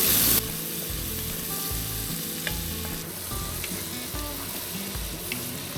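Butter melting over low heat in a pan with onions that are turning translucent, giving a steady close sizzle and frying crackle throughout, with a few soft stirring touches and no talking.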